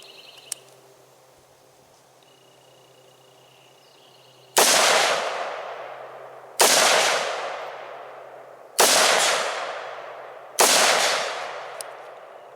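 LSW light support weapon fired semi-slowly outdoors, four loud single shots spaced about two seconds apart, each with a sharp crack and ringing decay, following a quiet stretch.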